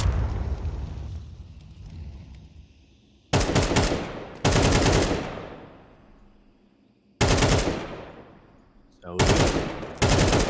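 Rapid bursts of gunfire in a competitive team video game match, several loud volleys separated by pauses, each trailing off with a decaying echo, while a commentator talks.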